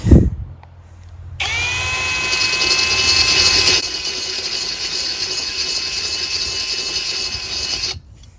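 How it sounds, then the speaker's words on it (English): A power drill starts after a brief thump and runs steadily with a high, whining motor tone, easing slightly partway through before stopping abruptly. "So I'm just gonna go ahead and start drilling."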